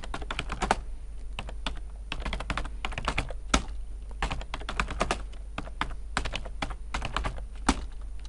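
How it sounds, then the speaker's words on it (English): Names are typed on a computer keyboard in quick, irregular bursts of close, crisp key clicks that run steadily throughout, with no talking. "type in my first name, type in my last name"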